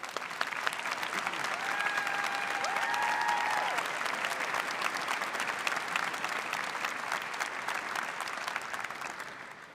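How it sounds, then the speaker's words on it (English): An audience at a college graduation ceremony applauds, a dense, sustained clapping from a large crowd that holds steady for several seconds, moderately loud, with faint tonal sounds briefly audible early on. "a round of applause."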